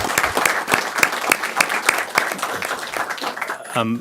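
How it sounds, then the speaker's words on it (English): A crowd at a city council meeting applauds steadily, many hands clapping in a dense patter at close range, with a voice cutting in briefly at the end. "Let's give Ray Bowman a round of applause"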